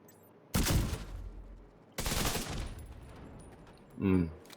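Heavy video-game gunfire from a high-explosive damage build in a shooter, two long loud bursts of shots followed by a short low thud, with no talk.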